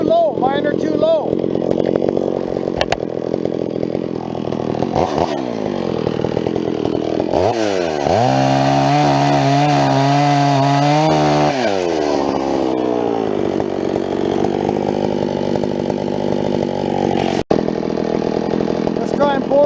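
Chainsaw bore cutting into a tree trunk with rakers filed too low, the engine loud and close, revving and bogging as the bar plunges into the wood with a steady high whine mid-cut.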